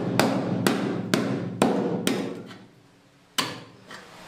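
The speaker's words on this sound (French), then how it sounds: "J'ai à peine posé le marteau dessus, ça a fait un trou." Hammer blows on a rust-perforated boat hull ring out as five evenly spaced, sharp knocks, then a pause and a sixth strike, close and loud with no voices.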